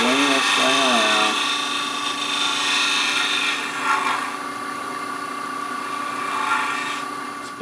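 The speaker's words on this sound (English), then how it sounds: "Spindle gouge and just pull it just a little bit." Spindle gouge cutting a spinning wooden box blank on a lathe, a continuous close rasping scrape over the lathe's steady hum, with a wavering pitch at first and then an even tone.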